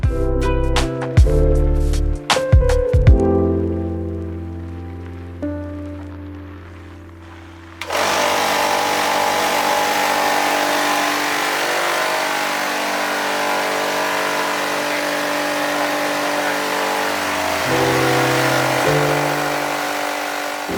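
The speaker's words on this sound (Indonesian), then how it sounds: "Setelah kompresor tekanan tinggi diaktifkan, gas bersih dimasukkan ke dalam tabung bio-CNG." A high-pressure compressor fills a bio-CNG gas tank. A few short mechanical starts give way to a loud, steady roaring hum that runs without a break to the end.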